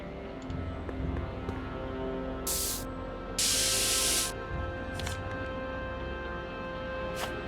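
Spray paint can hissing in the Back to the Future video game, two loud bursts, a short one then a longer one, over a steady game music bed with faint brief hisses later.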